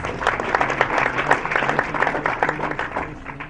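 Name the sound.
audience applause for Daddy Owen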